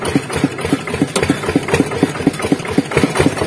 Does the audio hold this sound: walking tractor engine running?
yes